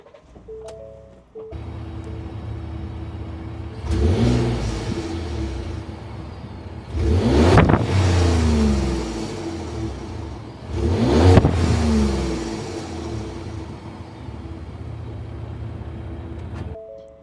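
Ford F-150 pickup truck engine cranking to a start, then settling into idle with three strong revs rising and falling in turn, loud and close with no talk.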